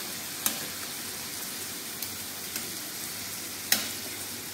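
A fish fillet fries in a pan with a steady, even hiss and a few sharp clicks and pops. No one speaks.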